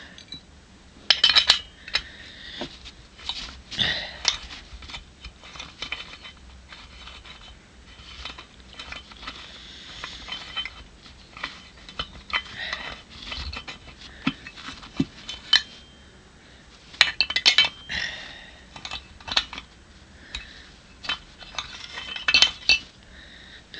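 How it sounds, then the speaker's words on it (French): Nuts are unscrewed to dismantle a cylinder, giving sparse faint metallic clinks and scrapes with quiet pauses between them. "il suffit de dévisser les écrous."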